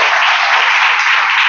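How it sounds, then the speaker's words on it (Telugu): A church congregation claps together for God, a loud, dense burst of many hands applauding close by with no break. "చప్పట్లు కొట్టు దేవుని."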